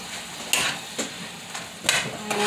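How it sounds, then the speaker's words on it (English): Steak and onions fry in a pan with a steady sizzle, broken by several sharp bursts of stirring or scraping about once a second, close by with no talk. "last batch of our steak start frying"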